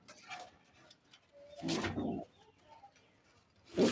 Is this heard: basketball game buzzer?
no